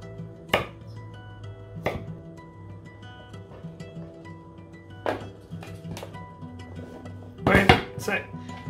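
A knife comes down on a cutting board while carrots are cut into diamond-shaped pieces, a few separate sharp chops spaced seconds apart, then a quick cluster of cuts near the end, close and clear over a low kitchen hum.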